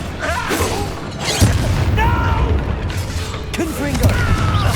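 Accio spell cast in the Hogwarts Legacy video game amid a combat sequence: loud booming and crashing magical impacts with whooshing effects, and battle voices heard over the dense game sound.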